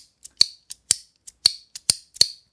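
Crisp metallic clicks in pairs, a small cupronickel haptic fidget slider snapping back and forth about eight times, close and sharp against silence.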